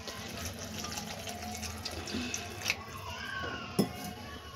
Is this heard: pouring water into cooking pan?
yes